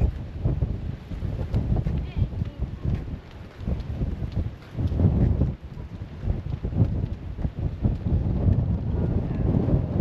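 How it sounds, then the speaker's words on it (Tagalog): Steady wind buffeting the microphone outdoors, loud and continuous low rumble with gusts throughout. "Medyo mahangin dito guys."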